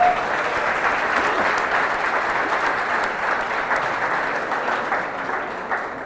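A church congregation claps at a youth service, sustained and loud applause from a full room that fades slightly toward the end.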